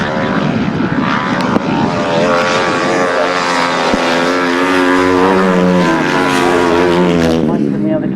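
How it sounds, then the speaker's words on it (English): Highly tuned 500cc grasstrack racing motorcycle engines roar loudly and continuously at a 2009 grasstrack meeting, a layered droning whine shifting in pitch as machines pass close by, with talk partly underneath. "I mentioned to you the highly tuned 500cc engines"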